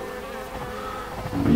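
Honey bees brought in from the hives buzz in a steady, fairly close drone, growing louder toward the end, with no voices.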